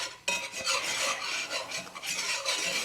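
A whisk scraping steadily around a pan of flour and butter being made into country milk gravy, a close, continuous raspy stirring with rhythmic strokes, alone without talk.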